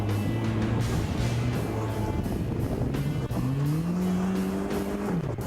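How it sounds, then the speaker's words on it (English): A car engine revs hard and continuously while tires squeal through a drift, the pitch rising and falling as the power shifts. "Good drift job coming through there."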